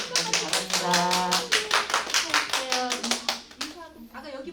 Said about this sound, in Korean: 우리 친구들도 박수 쳐주세요.